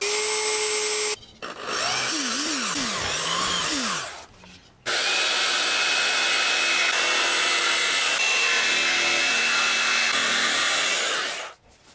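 A power tool whines and buzzes loudly while cutting a wooden panel for a light switch opening on a dressing-room mirror, running steadily with a short pause and a brief pitch-sweeping stretch before resuming.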